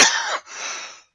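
A single person's cough during a live radio show while getting over a cold: one harsh, close burst followed by a softer breathy tail, with nothing else heard.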